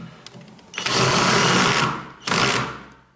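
A power driver tightens a screw during repair of a loose, wobbly piece of furniture fitted with a butterfly clamp, giving two close, loud bursts of whirring motor separated by a brief pause.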